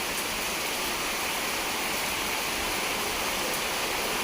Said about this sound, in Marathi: खतरनाक पाऊस चालू झालाय आता हा बघा